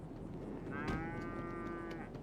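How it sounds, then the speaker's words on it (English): A single drawn-out cow moo from GTA V rises clearly over steady game background noise, loud and close. "You're a cow."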